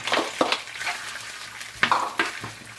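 Onion, apples and bananas sauté in a frying pan, a soft steady sizzle broken by several sharp spatula scrapes and knocks against the pan, close and moderately quiet.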